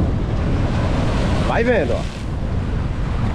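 Sea waves surge against the seawall at Boa Viagem in Recife, a loud continuous wash of water mixed with wind buffeting the microphone, while someone briefly speaks over it.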